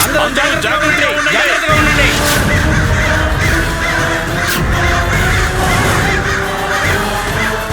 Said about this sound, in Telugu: కాకులు ఇటువైపుగానే వస్తున్నాయి